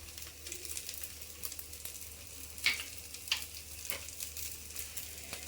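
Vegetable masala dosa frying in ghee on a griddle, a steady close crackling sizzle with a few sharper pops and spatters, fairly quiet and with no talking.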